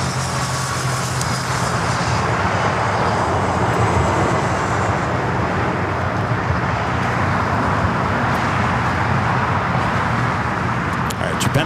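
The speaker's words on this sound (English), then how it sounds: "Japan Airlines A350 1000 now rolling down 25 right." A Japan Airlines A350-1000 rolls down runway 25 right at LAX on its takeoff run, a steady broad jet engine roar filling the whole stretch, with a voice speaking over it.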